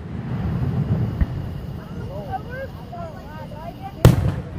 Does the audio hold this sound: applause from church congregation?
no